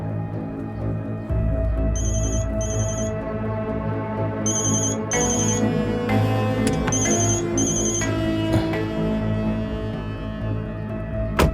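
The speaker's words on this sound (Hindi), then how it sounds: "किसका फोन था?" A telephone ringtone repeats in short electronic bursts with pauses between them, loud and close over a dense low background.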